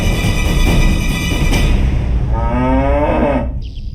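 A buffalo lets out a loud, close moo, a long low bellow that swells and then falls away near the end, with no other sounds.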